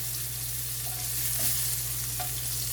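Meatballs frying in oil make a continuous, even sizzle with a faint steady hum underneath and a few small pops.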